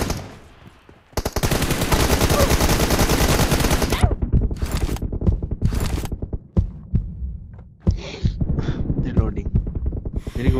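Rapid automatic gunfire in a shooter video game's custom room: a loud, sustained burst of dense shots, then shorter, choppier bursts with gaps between them.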